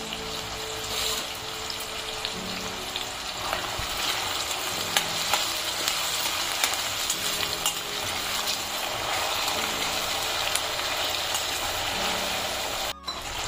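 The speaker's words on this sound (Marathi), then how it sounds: "हे चांगलं आपल्याला काय करायचंय, एकदम मऊ होईपर्यंत आपल्याला छानसं परतून घ्यायचंय।" Eight to ten garlic cloves with onion and tomato sauté in a pan for an egg curry, giving a steady close-up sizzle that runs throughout with faint stirring clinks.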